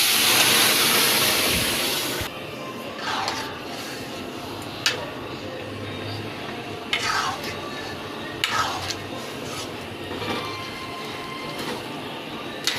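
Vegetable curry in a pot, beginning with a loud hiss of frying that cuts off, then quieter bubbling with several distinct scraping stirs spaced a few seconds apart.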